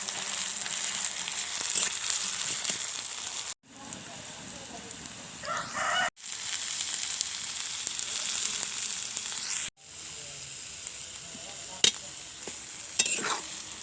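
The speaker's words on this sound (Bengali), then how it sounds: "এবার আমি এর মধ্যে দিয়ে দেব থেঁতো করা রসুন আর কাঁচা লঙ্কার টুকরো। সমস্ত উপকরণ খুব ভালো করে ভেজে নেব।" Crushed garlic and green chilli pieces frying in a pan, a steady hiss and sizzle that breaks off briefly a few times, with occasional stirring clinks and a rooster crowing faintly in the background.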